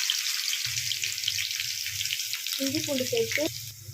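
Ginger and garlic sizzle and crackle in a hot kadai alongside mustard seeds, urad dal and a little fenugreek, a steady broadband frying hiss with a low hum beneath and a short burst of brighter spattering near the end.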